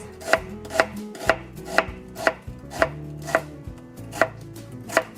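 A knife chops food on a cutting board while seafood boil ingredients are prepared, giving eleven evenly spaced, crisp, close thuds in a steady rhythm with no talking.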